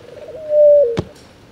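A single low pigeon coo held for a moment, then a sharp brief burst like a wing flap or thud, in a quiet outdoor setting.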